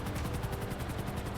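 Gunfire in GTA 5 roleplay, a rapid rhythmic burst of shots heard faintly at a distance for over a second, with a helicopter nearby.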